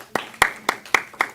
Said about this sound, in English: So let's give Lynn a round of applause.